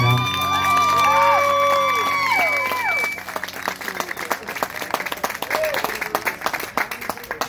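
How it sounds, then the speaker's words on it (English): Music fades out after a dance performance as a crowd breaks into applause and scattered cheers, with claps and whoops continuing steadily at moderate volume. "Another round of applause for them right now."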